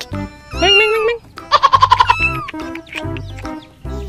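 Colorful rainbow chickens, many of them, cluck up close in short bursts, including a quick rhythmic run of clucks, with other animal calls mixed in.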